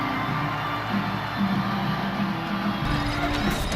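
Wrestling arena crowd at a PWG show, a steady distant roar of cheering and murmur with a faint tone running through it, no single voices standing out.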